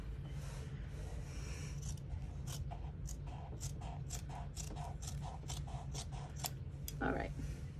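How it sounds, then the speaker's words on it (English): Scissors roughly trimming excess fabric while sewing a vinyl clutch bag, a series of close, crisp snipping crunches in an irregular rhythm at low volume. "I'm going to rough cut some of that fabric off so it doesn't land in our seam allowance."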